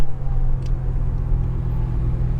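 An 800 WHP Heffner twin-turbo Lamborghini Gallardo drives steadily, its engine a deep, continuous low rumble, fairly close, with no clear revving or gear changes.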